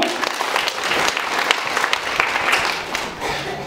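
An audience at a gathering about education in Mafia claps in sustained, dense applause, steady throughout with no voices standing out.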